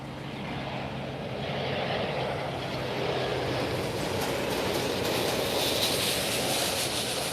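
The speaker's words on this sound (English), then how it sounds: "TAP Air Portugal's Embraer. Landing now on this one." A TAP Air Portugal Embraer jet lands at Lisbon, a steady broadband roar of engines and rushing air that swells slightly and holds throughout, with no talk.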